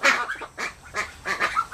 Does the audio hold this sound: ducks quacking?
yes